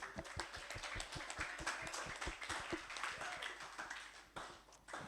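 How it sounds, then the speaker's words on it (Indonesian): An audience at an Indonesian book discussion event claps for a mentor, with sharp individual claps in a quick irregular rhythm close by, while some voices murmur underneath. "kita kasih tepuk tangan yang meriah buat Kang Ibnu"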